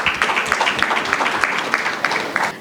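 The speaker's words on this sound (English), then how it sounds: "a round of applause for him" Audience clapping for a speaker at an event on investment in Africa, a steady dense patter of many hands with a few louder claps standing out, continuous throughout.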